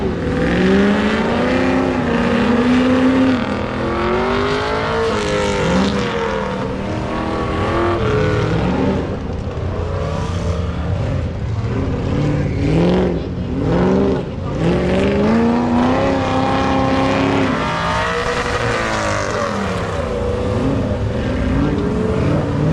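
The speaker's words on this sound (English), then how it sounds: "Now we got a F-150 versus another GMC truck." Ford F-150 and GMC pickup truck engines racing head to head at an autocross at Beech Bend Raceway Park, a steady loud drone of revving and shifting engines throughout, with faint voices underneath.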